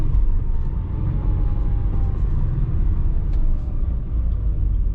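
A Subaru Forester XT with a turbocharged engine while driving, a loud steady low rumble of engine and intake heard from inside the car, with no talking.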